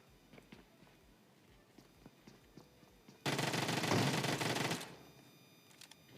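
A burst of rapid automatic gunfire in the mobile battle royale game PUBG Mobile, loud and sustained for about a second and a half, after quieter scattered footsteps and clicks.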